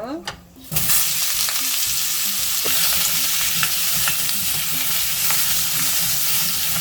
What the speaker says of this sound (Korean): 감자를 이렇게 기름에 볶아버리면 기름이 코팅을 하잖아요